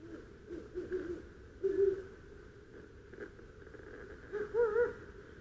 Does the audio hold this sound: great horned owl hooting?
yes